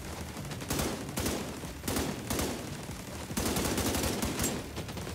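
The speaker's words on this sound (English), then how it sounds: "I love how you can just pin them down with the turrets." Automated turrets fire in The Division 2, a dense, continuous rattle of gunfire with louder bursts every second or so, filling the whole stretch without talking.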